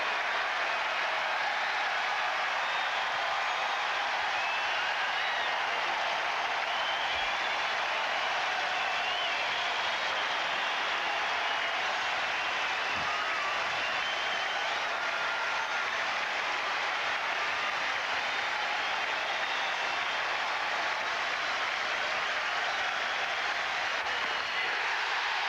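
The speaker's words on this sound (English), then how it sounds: "Way to hear this crowd now." A Fenway Park crowd at a Red Sox game against the Tampa Bay Devil Rays roars in a dense, sustained wall of cheering and applause that holds steady and loud throughout.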